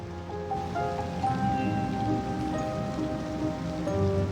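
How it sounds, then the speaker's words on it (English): Rain ambience from the video game Cities: Skylines 2: steady rain falling on surfaces, a dense patter of drops with soft tonal tones drifting through, continuous and even. "if you are having rain and how intense that rain is."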